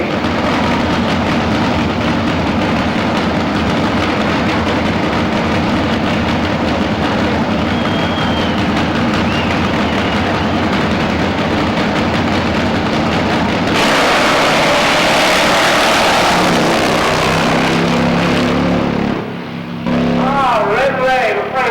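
A brand new Tennessee Warrior 2 drag race bike makes a pass at a drag racing event, a loud sustained engine roar that shifts partway through before a brief drop, with commentary running over it.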